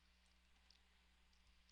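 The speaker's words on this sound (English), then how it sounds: "just kind of clicking with the left click of the mouse" A single left click of a computer mouse, sharp and close at the very end after near silence with a faint low hum.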